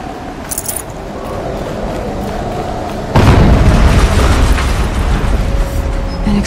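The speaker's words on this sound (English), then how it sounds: "An explosion." An explosion in Horizon Zero Dawn, a sudden loud boom that bursts in midway over a steady ambient wash, then gives way to a heavy, sustained rumble.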